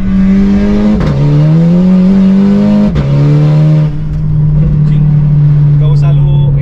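VW Scirocco engine revving hard, loud and close, with a sustained roar that drops sharply and climbs again twice as gears change, then settles into a steadier drone, with a voice talking faintly over it.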